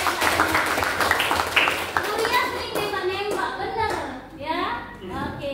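Classroom applause for teacher Pak Sandy during an open-class lesson at SMK Negeri 5 Palembang: steady clapping from a group of students, with children's voices and chatter over it.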